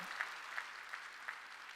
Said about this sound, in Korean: 박수를 치라는 거예요. 박수 치라는 거예요.